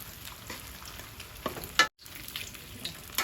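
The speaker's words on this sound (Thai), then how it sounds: "พอน้ำมันร้อนเราก็ใส่เกี๊ยวลงไปทอดเลยนะคะ" Wontons deep frying in hot oil, a continuous crackling sizzle with a few sharper pops and stirring clinks, briefly cutting out near the middle before resuming; no speech.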